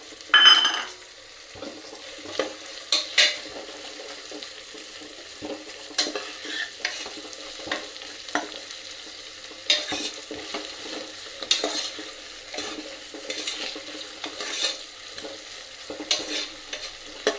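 Gongura leaves, curry leaves, tomato and cashews frying in hot oil and being stirred: a close, continuous sizzle with a series of sharp scrapes and clanks of a spoon against the pan, and no voices.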